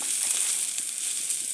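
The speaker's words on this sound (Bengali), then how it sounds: "অনেকটা ভাজা ভাজা হয়ে গেছে আমার পেঁয়াজ মরিচ আর সাথে রসুন" Onions, chilies, garlic and fish fry in mustard oil with a loud, close, steady sizzle throughout.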